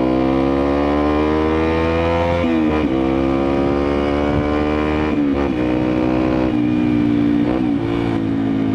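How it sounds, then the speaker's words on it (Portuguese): A Yamaha XTZ 125 motorcycle revs and accelerates up through its gears, the engine note rising then dipping at each shift, loud and close throughout with no talk. "Motoca, ela tem uma aceleração boa."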